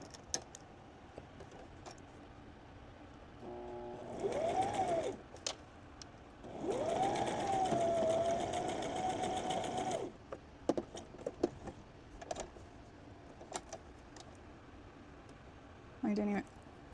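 A sewing machine stitches cotton fabric wipes in two sustained whirring runs with a rising and falling motor tone, followed by scattered clicks and mechanical taps while a person speaks softly.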